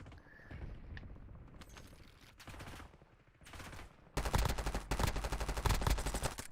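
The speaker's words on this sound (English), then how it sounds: "I'm shooting somebody up here right now." Bursts of video game gunfire, scattered shots early on, then a dense, loud stretch of rapid automatic fire in the second half.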